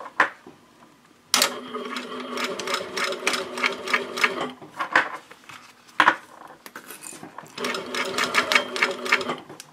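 A sewing machine stitches a fabric wristlet pouch, starting with a back stitch, in loud, close, rapid rhythmic runs broken by short pauses.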